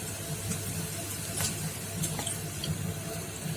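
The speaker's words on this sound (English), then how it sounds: "The food is popping, so I think it's time to add water." Water poured into a pan of sautéing mushrooms and garlic gives a continuous close rush and splash with a sizzling undertone and a few sharp crackles, with no voices.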